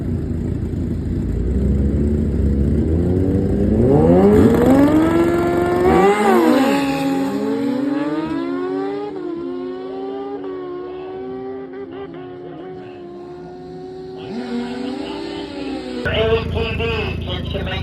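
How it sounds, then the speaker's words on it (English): Turbocharged 2012 Suzuki Busa and 2012 Kawasaki ZX10 motorcycles at a drag strip, loud engines revving and climbing through rising pitch sweeps as they launch and pull away, with a public-address announcer talking over the roar. "Michael 2012 Busa turbocharged. Ryan Watson, the far side, 2012 Kawasaki ZX10."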